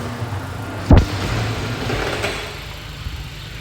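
A car engine idles with a low, steady hum, briefly punctuated by a sharp thump near the start before settling back to a quiet, even idle.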